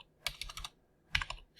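Keys on a computer keyboard are tapped in two quick bursts, several soft clicks, a pause, then a few more, close and quiet in a silent room.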